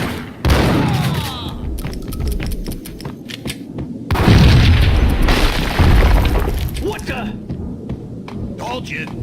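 A heavy explosion-like boom rolls through Max Payne gameplay, a loud low-frequency blast arriving near the start and a second big boom around the middle, each followed by rumbling debris and clatter.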